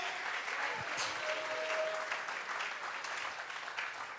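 A church congregation at a Bible study gives an offering of applause to God, with a soft, continuous patter of many hands clapping in a room, steady and somewhat distant.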